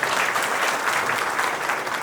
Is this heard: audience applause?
yes